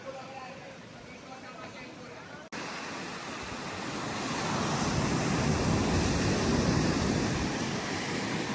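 Surf breaking in a shallow beach cove at Samaná, Dominican Republic, a steady broad wash that swells louder midway, with wind buffeting the microphone.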